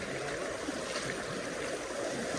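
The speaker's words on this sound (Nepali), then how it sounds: "आमा यहाँ कस्तो प्रेस आएको क्या पानी" Water rushes under strong pressure beside a muddy walking path, a dense, steady roar that stays loud and unbroken the whole time.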